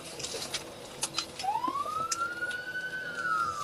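A siren rises and wails steadily in the distance, under outdoor noise and scattered clicks and knocks.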